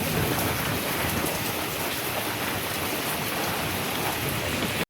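Heavy rain pours steadily throughout a Kalbaishakhi storm, a dense, loud, unbroken hiss of drops on surfaces, close by and with no voices.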